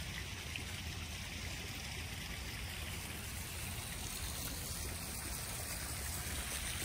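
Backyard koi and goldfish pond waterfall trickling in a steady, continuous wash of running water, soft and even throughout with no voices.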